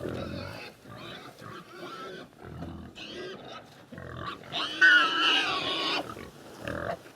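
Pigs on pasture grunt and oink in a series of short, irregular bursts close by, growing louder and busier near the end, with no people talking.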